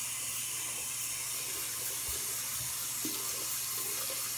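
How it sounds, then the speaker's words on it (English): Warm water runs steadily from a bathroom tap into a sink, a continuous close hiss and splash with no talking. "I'm going to turn on warm water."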